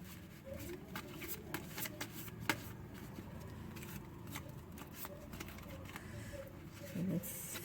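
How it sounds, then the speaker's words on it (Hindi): A deck of tarot cards is shuffled in quick, faint riffles and soft slaps, a run of brief papery bursts at close range in a quiet room. "उसके लिए पहले हम कार्ड शफल अच्छे से करते हैं"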